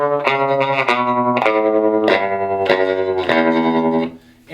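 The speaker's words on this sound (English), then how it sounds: "They've got tremolo." Electric guitar played through a small all-tube Fender Vibro Champ amp with tremolo and reverb on. Several strummed chords and notes ring out loud and close, with shimmering sustain before fading at the end.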